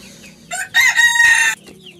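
A rooster crows once, loud and near, after a few short clucks from chickens at a fancy-breed poultry farm, with quiet farmyard background and no speech.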